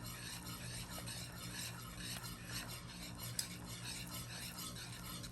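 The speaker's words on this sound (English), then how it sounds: "what you're going to do is you're going to add in your 1 cup of flour, and with a whisk, you're just going to whisk it in" A whisk works flour into melted butter in a saucepan for cinnamon baked churros, making a faint, continuous scraping and swishing with a light clink near the middle.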